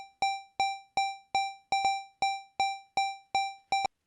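Crisp synthetic pings repeat in a 6-in-16 rhythmic loop, roughly a dozen evenly pulsing strikes with a quick double hit near the middle, each decaying fast, alone without speech.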